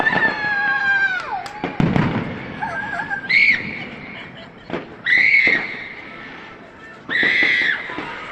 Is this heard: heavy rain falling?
no